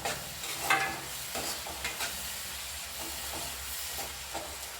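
Dried vanjaram fish thokku masala sautéing in oil in a pan, a steady low sizzle with intermittent stirring scrapes, close but quiet, no voices.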